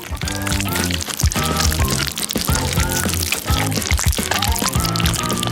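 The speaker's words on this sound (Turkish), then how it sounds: "Baskin Robbins'i eritip üzerine dökmeliyiz." Melted Baskin Robbins ice cream is poured from a container onto a cake in a steady stream. The pour is close and fairly loud, with light splashes and crackles, and music plays loudly throughout.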